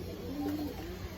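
Pigeons in a home pigeon loft give soft, low, continuous cooing that hums along steadily at moderate distance without any speech.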